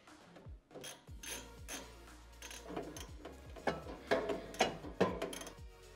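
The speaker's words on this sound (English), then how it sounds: "we're gonna reinstall these 12mm bolts that we removed" Ratchet tightening 12mm bumper bracket bolts on a Toyota Tacoma, a quick series of close clicking pawl strokes in short repeated bursts, growing slightly louder toward the end.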